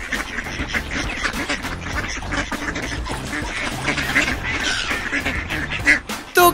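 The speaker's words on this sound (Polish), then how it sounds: "Kaczka kwacze. Kwa, kwa." A duck quacks repeatedly over dense, busy background music, loud and continuous throughout.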